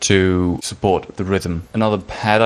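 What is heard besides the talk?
No everyday noises stand out.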